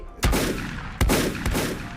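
Turrets fire in the video game Volcanoids, with loud, sharp gunshot bursts at irregular intervals over continuous rumbling noise and no talk.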